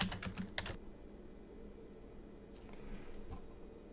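A computer keyboard rattles with a quick burst of close typing as a password is entered, then falls quiet, with a couple of faint clicks near the end.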